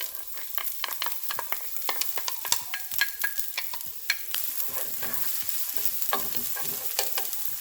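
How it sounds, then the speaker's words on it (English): Onions sautéing in olive oil in a pan for black bean veggie burgers, a close steady sizzle with frequent sharp utensil taps and scrapes as they are stirred. "To our pan, we're going to add some olive oil. And to this, we're going to add our onions."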